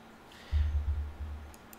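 A computer mouse gives a couple of faint, sharp clicks near the end, following a brief low thump in a quiet room.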